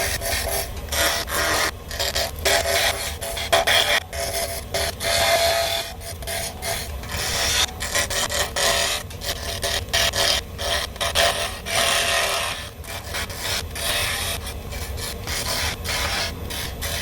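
Spindle gouge cutting walnut on a wood lathe spinning near 2,500 rpm, a steady scraping, rasping hiss with flickering texture that runs loud and continuous throughout.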